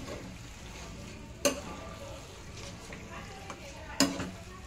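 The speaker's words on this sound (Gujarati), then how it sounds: "હવે આને મસ્ત મજાનું હલાવી નાખીશું." Papad vada mixture is stirred with a spoon, two sharp clinking scrapes standing out over a faint, low background hiss.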